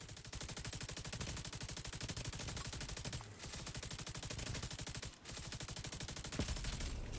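Rapid automatic gunfire from The Division 2 rattles in long sustained bursts, dense and loud, with two brief pauses and no speech over it.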